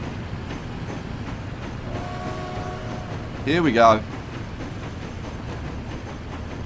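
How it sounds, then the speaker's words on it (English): A train in Transport Fever pulls through an underground station, giving a faint, steady rumble with a short louder burst of game effects partway through, while a voice speaks briefly over it. "The train's moving, but it doesn't show that it's moving until it reaches about 11 miles an hour"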